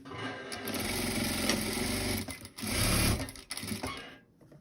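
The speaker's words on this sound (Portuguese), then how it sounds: "E aí, eu vou rebater uma costura aqui," A sewing machine runs close and loud in two sustained bursts, stitching a topstitch seam on a fabric doll, with a short pause between runs and a quieter tail at the end.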